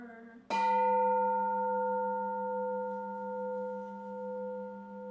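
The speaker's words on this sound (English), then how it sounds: "Here is the after sound of the bell." A Zen Buddhist temple bell is struck once and then rings on alone, its steady pure tones lingering and slowly wavering for several seconds in a quiet room.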